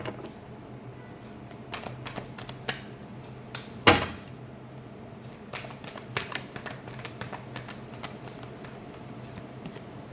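A deck of tarot cards being shuffled by hand, close and dry, with scattered quick taps and riffles and one louder slap partway through over a quiet background.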